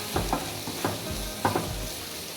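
Sliced onions and green chillies sizzle in a pan while a spatula scrapes through them in a few brisk strokes, close and moderately loud.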